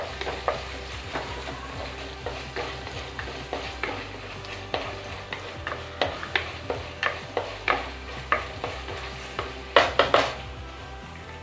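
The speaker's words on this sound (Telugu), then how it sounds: "ఇందులో ఉన్న పచ్చివాసన అంతా పోయి ఆయిల్ పైకి తేలే వరకు వేయించాలండి." Ginger garlic paste sizzles in hot oil in a pan while a spoon stirs it, with steady frying hiss and regular scraping knocks against the pan, louder near the end.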